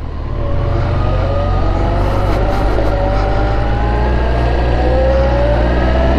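A Kawasaki ZX14 sport motorcycle engine rumbles loudly and close, its pitch climbing steadily as it revs and accelerates, with a deep continuous roar and no talk.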